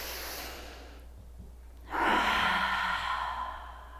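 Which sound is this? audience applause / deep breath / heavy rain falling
deep breath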